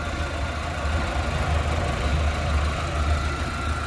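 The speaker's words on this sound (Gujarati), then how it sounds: "તો આપણું આ આખું એન્જિન કમ્પ્લીટ ચાલુ જ છે." Maruti Eeco engine idling steadily and close by, a continuous low rumble with an even, unbroken hum and no speech over it.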